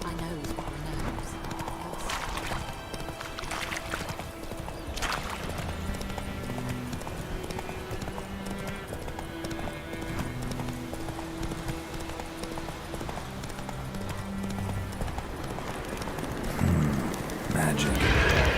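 Video game horse Roach galloping, a fast continuous clip-clop of hooves with occasional whinnies under game music and someone talking throughout.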